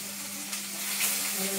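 Onions frying in a pan while being stirred, a quiet continuous sizzle with a small knock and light stirring movement, over a faint steady hum.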